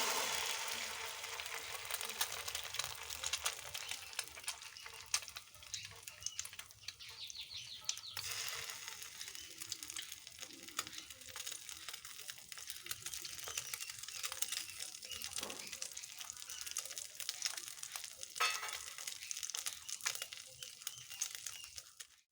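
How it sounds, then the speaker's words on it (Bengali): An egg fries in mustard oil in a wok with a soft, continuous crackle and hiss that stays fairly faint across the whole stretch, broken by small irregular pops. No one talks. "আবার সামান্য পরিমাণ কিছুটা সর্ষের তেল দিয়ে দিচ্ছি ডিমটা ভাজবো বলে এবার আমি কড়াইয়ের ডিমটা দিয়ে দিচ্ছি"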